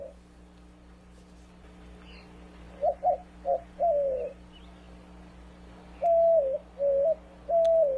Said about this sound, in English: Our mystery bird is a member of the Columbidae family of birds.